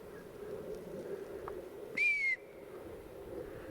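A single bright rising whistle, likely a bird, sounds once from behind flags, brief and clear against a steady outdoor hum, with a faint higher chirp a moment earlier.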